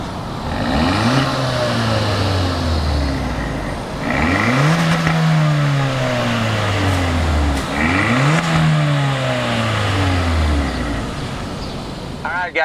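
A 2019 Hyundai Elantra GT N Line hatchback with a 201-horsepower engine revs hard three times, each pull rising in pitch and winding back down, loud and close, with a voice talking over it.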